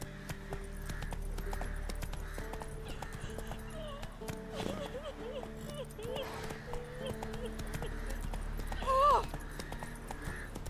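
A horse ridden in The Witcher 3: Wild Hunt gives a steady, close clip-clop of hooves throughout, with game voices and tonal background sounds layered over it.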